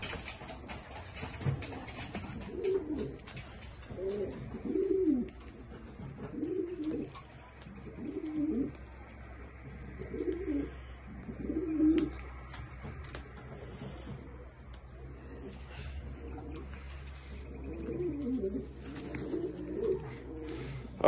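Pigeons coo repeatedly inside a pigeon loft, a steady series of soft, low, rolling calls close by with short pauses between phrases over a quiet room hum.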